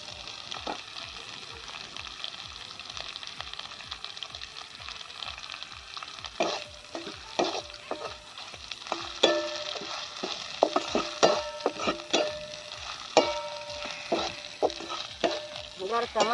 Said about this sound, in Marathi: कशी तळून घेते बघा आई सुकट कढईमध्ये